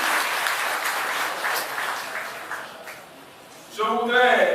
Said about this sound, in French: félicitez par vos applaudissements